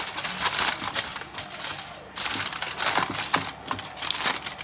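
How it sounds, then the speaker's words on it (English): Aluminum foil crinkles and crackles as it is pressed over a meatloaf, close and fairly loud with irregular crisp rustling bursts. "I'm going to put a aluminum foil on it."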